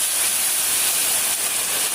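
Tomatoes hit a hot pan of green beans and sizzle in a loud, steady hiss that stays constant and close throughout.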